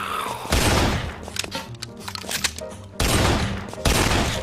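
Rapid bursts of gunfire from the shooting game Guns, Gore & Cannoli, with loud sustained volleys at the start and two more near the end, filling the foreground.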